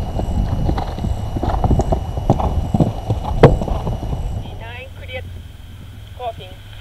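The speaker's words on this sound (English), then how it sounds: "Jumping the Oxer at 8 is number 50, George Prather." Horse hooves on a show-jumping course at the Ocala Horse Trials eventing competition, steady clip-clop of a moving horse over outdoor ground, fairly close, with an announcer talking over it and birdsong at the end.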